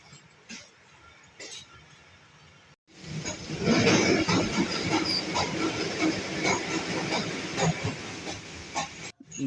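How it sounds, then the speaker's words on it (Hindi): Rawal Express train pulling out of Chaklala station toward Rawalpindi, a quiet stretch giving way to loud, steady rumbling and rattling of carriages with hissing and clanking, close by and continuous. "अब हमारी गाड़ी चकलाला से रावलपिंडी के लिए रवाना हो रही है"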